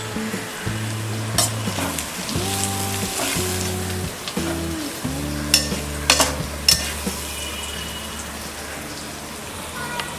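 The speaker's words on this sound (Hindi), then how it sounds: "मसाले सारे फ्राई हो गए हैं।" Spices with cumin powder, garam masala and fresh mint fry in hot oil for kala chana pulao, giving a loud, close, continuous sizzle with stirring clatter and a few sharp pops.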